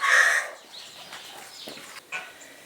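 A hen clucks in a small cage on a farm keeping local Kienyeji chickens in Kenya, one loud close burst at the start, then softer rustling and faint clucks.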